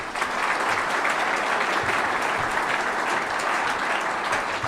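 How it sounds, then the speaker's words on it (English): Audience applause for the coach's wife at a Wake Forest head football coach introduction, a loud, steady, even wash of many hands clapping with no talk over it. "So if anyone give her a round of applause, please."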